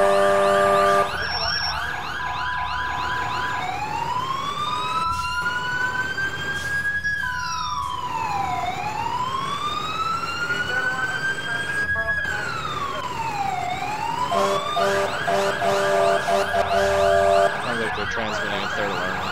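Emergency vehicle sirens from the EmergeNYC game during a fourth-alarm fire, rising and falling in loud repeated wails with steady tones and some glitchy stutters, continuous and close.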